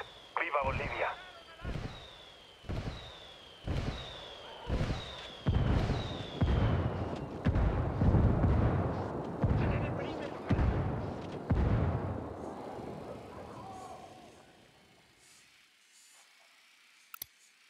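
Artillery fire for effect in the Ghost Recon Wildlands video game, a regular series of about a dozen heavy booming impacts that build into a rumbling barrage, then fade, with game radio chatter over it.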